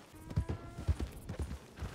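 A horse in Red Dead Redemption 2 clip-clops with a quick, rhythmic run of hoofbeats, fairly quiet and close, with no talk over it.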